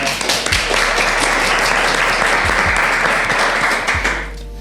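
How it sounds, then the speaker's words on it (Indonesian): An audience applauds a guest from an Indonesian railway enthusiasts' community, a dense, sustained clapping that fills the room at steady loudness before tapering off at the end. "Tepuk tangan dulu semuanya."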